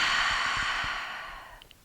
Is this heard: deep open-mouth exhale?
yes